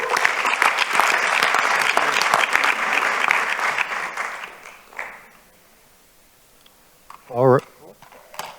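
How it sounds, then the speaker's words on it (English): An audience claps for Dr. Tim Baird at the Supe Tank 2.0 event, a loud, dense round of applause that fades out over several seconds before a few scattered knocks and handling sounds. "let's give a round of applause to Dr."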